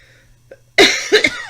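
A single harsh cough bursts out close by, followed by a second shorter cough, after a faint breath.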